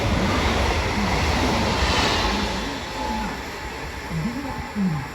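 A train rushes through a commuter rail station at El Puig, near Valencia, without stopping, making a loud, steady rumbling roar that slowly eases off while a voice speaks over it.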